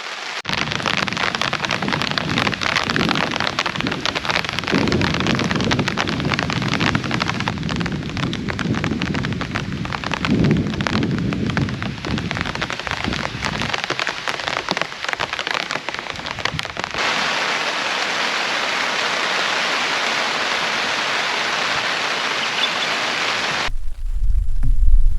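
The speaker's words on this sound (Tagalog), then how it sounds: "Sarap ng ulan oh." Rain patters continuously on a new tent at a rough campsite, a loud dense hiss that stays steady, changes character partway through, then drops off near the end.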